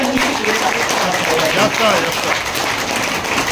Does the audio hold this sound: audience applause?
yes